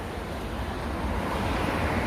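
Sea waves wash steadily onto the shore in Turkey, a continuous broad rushing roar mixed with wind buffeting the microphone and no voices.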